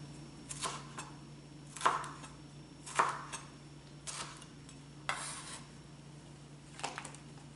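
A large chili pepper is sliced into chunks with a knife on a cutting board, giving about seven crisp, evenly spaced chops, close and clear over a faint steady background hum.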